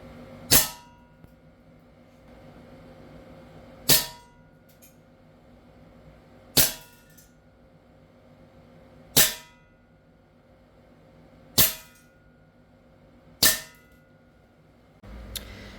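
An airsoft gun fires six separate shots, each a sharp, loud crack with a short metallic ring, spaced a few seconds apart, with quiet between them.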